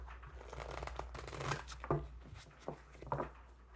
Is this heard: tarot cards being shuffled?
yes